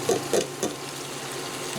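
Ground chuck and sautéed mushrooms frying in a pan, a low steady sizzle with a few brief scraping stirs near the start, close and fairly quiet throughout.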